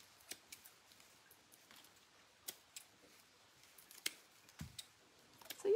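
Quiet, crisp snips of scissors trimming the hair on a scarecrow craft come in scattered, irregular clicks close by, with a few soft handling rustles between them.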